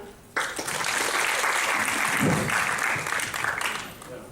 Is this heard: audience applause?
yes